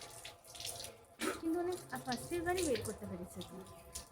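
Water gushes and splashes out from the stomach through the throat during the yogic cleansing practice of neti dhouti, a few irregular sloshing bursts close by with a voice murmuring alongside.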